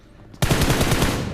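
Automatic gunfire in the video game PUBG bursts in abruptly after a short quiet lead-in, a loud, rapid continuous stream of shots up close.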